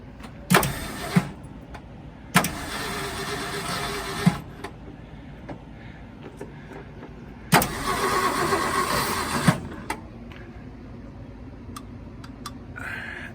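A 1966 Ford F100 pickup with its choke stuck open cranks in three separate bursts of starter grinding, each lasting a second or two, with quiet pauses between and no catch.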